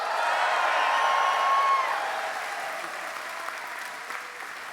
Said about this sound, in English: let's hear an even bigger cheer.